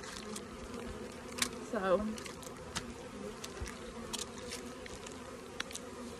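Bees buzz faintly around a beekeeper on a warm day, a soft steady insect drone with one brief closer buzz passing by, and a voice speaks once briefly.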